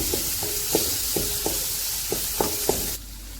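Masala frying in a pan for stuffed bitter gourd, a steady sizzle with about eight rhythmic spatula taps and scrapes, cutting off abruptly near the end.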